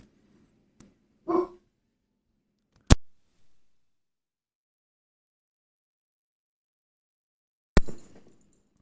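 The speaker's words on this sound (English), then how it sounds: "my dog is very excited about something going on outside" A dog barks a couple of times indoors, short sharp bursts separated by silence, followed by a sudden sharp clack and a later loud knock or clatter.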